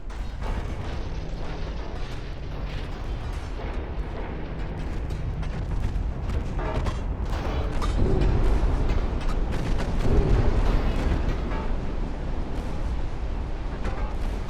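Warship in Ultimate Admiral Dreadnoughts taking repeated torpedo hits, a dense continuous barrage of crackling blasts and rumbling explosions that swells near the middle.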